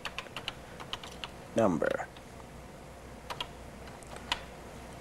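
Typing on a Color Computer keyboard: scattered quiet key clicks in an irregular rhythm, with a brief louder burst of talk in the middle as someone speaks over the keys.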